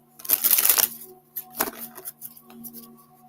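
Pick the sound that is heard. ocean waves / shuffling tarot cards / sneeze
shuffling tarot cards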